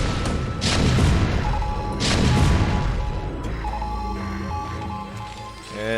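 Siege tanks fire in a StarCraft II match: two heavy booming blasts rumble and crash close together, then mechanical tones and smaller impacts follow, with a brief spoken word.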